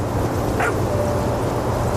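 Puppy in the video game What Remains of Edith Finch giving a single short yip or bark, faint and brief over a steady low background hum.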